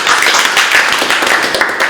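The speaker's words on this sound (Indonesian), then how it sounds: "Ayo beri tepuk tangan." A group claps hands in steady, fairly loud applause at a party, the quick overlapping claps sustained throughout the short burst.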